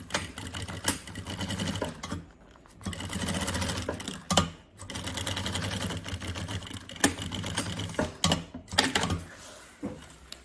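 A sewing machine runs in bursts of rapid mechanical stitching as lining is sewn to synthetic fabric for a bunny backpack, with short pauses between runs, close and fairly loud.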